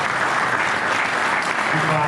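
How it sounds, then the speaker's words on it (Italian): An audience at an Italian book presentation about a Formula 1 driver applauds, a steady continuous clapping that stays loud throughout, with a faint voice underneath near the end. "e quindi anche un altro applauso"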